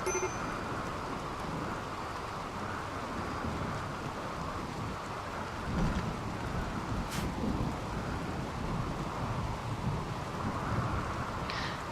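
A thunderstorm in the colony-building game Rimworld: a steady, dense wash of rain with low rumbling thunder underneath, swelling slightly around the middle, continuous and fairly loud throughout.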